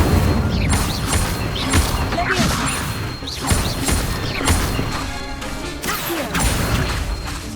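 Incendio fire spells in Hogwarts Legacy go off repeatedly as loud whooshing, crashing bursts in a steady rhythm of roughly one or two per second, with a voice faintly under the action.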